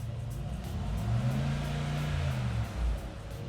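A sports car in Sport Plus mode accelerating hard in Dubai, its deep, loud engine note rising and surging steadily without a break.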